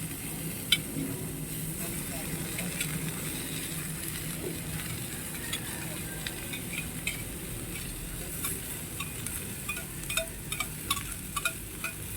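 Mixed vegetables are stirred in a frying pan, giving a steady low sizzle with intermittent scraping clicks of the utensil against the pan, faint and close.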